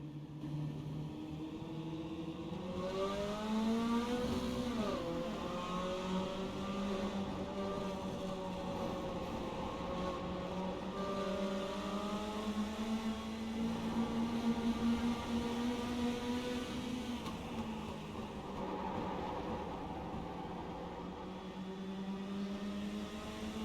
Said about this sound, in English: That's a lap at Concord with Slade, number 82.